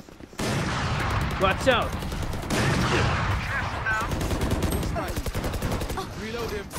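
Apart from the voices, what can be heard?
machine gun fire in the video game Valorant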